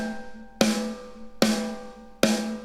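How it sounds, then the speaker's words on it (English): Snare drum in the ML Drums software mixer, struck three times at an even pace, each crisp, loud hit ringing out with a sustained tone before the next. "So here is the snare being played as it is."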